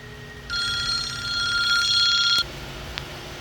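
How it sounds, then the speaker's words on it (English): A telephone rings with a bright electronic warble, one long burst of about two seconds that cuts off abruptly, heard in a workshop where a BMW 3 Series starter motor is being replaced, with no talk. "we were so rudely interrupted by the other phone"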